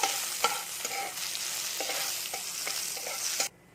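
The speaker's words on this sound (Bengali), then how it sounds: "এখানে আমি এগুলোকে ভেজে নেব এগুলোকে একটু হালকা লাল করে ভেজে নেব" Chana dal and urad dal frying in a pan while being stirred: a steady close sizzle with a few soft spoon scrapes. It stops abruptly near the end.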